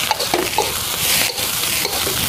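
Rice with fermented pork is stir-fried in a wok, giving a continuous close sizzle broken by scraping and tossing sounds from the spatula, with no talking.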